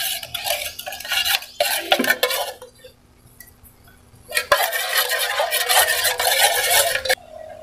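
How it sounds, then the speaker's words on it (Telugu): Bellam avakaya, a jaggery mango pickle with salt and chilli powder, stirred in a pot. A spoon scrapes and clinks against the metal in busy, continuous bursts, breaks off briefly, then resumes, close and fairly loud. "మళ్ళీ దీన్ని బాగా మిక్స్ చేసుకోండి."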